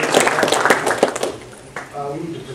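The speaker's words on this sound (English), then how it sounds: "You can clap for that one" An audience at a political speech bursts into a short round of clapping, loud and close at first, then fading as a voice resumes talking.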